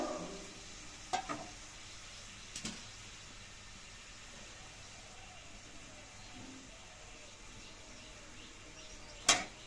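Potatoes frying on a clay stove with a steady low sizzle, broken by a few sharp scrapes of a stirring utensil against the pan, the loudest near the end.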